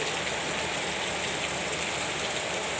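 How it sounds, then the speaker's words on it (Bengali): Heavy rain pours down steadily outside a balcony, a dense, even hiss of falling water with no breaks and no voices. "বাইরে কিন্তু মুসলধারায় বৃষ্টি হচ্ছে"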